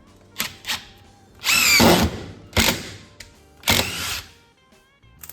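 A cordless drill running on a universal battery with a Bosch adapter drives a screw into wood in several short whirring bursts, one longer rising whine in the middle, separated by brief pauses, close and loud.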